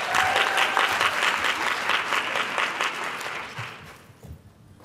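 Audience applause at the 2019 PitcHER Competition, a full, steady round of clapping from a crowd that holds strong for several seconds before fading out.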